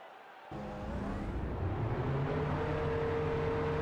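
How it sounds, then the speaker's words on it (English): Several Champ Car race car engines fire up abruptly on command and settle into a loud, rumbling idle, with rising tones as they rev and build. "Drivers, start your engines!"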